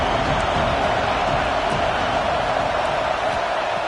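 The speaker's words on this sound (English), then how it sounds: "this crowd is fired up. Listen to this noise here." Dense, steady roar of a football stadium crowd at a Penn State versus Notre Dame game, a continuous loud wash of cheering noise with no breaks, holding at an even level throughout.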